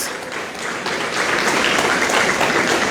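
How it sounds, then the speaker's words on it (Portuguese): A church congregation at a prayer service claps together, a loud, dense wash of applause that swells slightly and holds steady for a few seconds. "Aplauda o Senhor."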